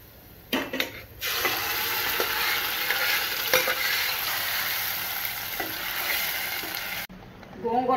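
Curry leaves and dried red chillies hit hot oil for a tempering on gonguura pulusu, giving a loud, steady sizzle and crackle for several seconds with a few sharp clinks of stirring.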